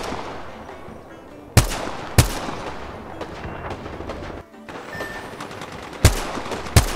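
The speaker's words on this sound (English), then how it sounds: "Shots fired at me." Gunfire in the Apex Legends video game: several sharp, loud shots and short bursts cracking out at irregular intervals over a busy background of game noise, with no talking.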